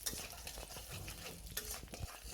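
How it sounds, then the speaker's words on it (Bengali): Chopped garlic fries in cooking oil for vegetable noodles, a soft, fairly faint sizzle with light scraping stirs and a few utensil clinks against the pan. "আমি আরও 2 টেবিল চামচ রান্নার তেল দিয়ে দিচ্ছি রসুন কুচি।"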